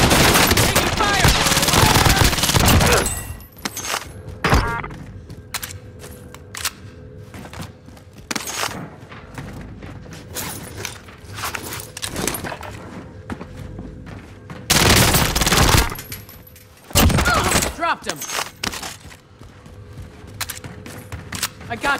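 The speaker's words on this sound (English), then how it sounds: "Taking fire!" Heavy gunfire and booming bursts in a battle royale match in Rebirth mode, with loud volleys near the start and again midway, separated by quieter stretches of smaller shots and game sounds, while players talk over it.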